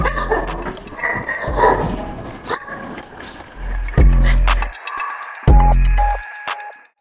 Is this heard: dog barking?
yes